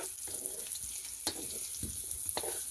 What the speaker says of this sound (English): we're going to saute these carrots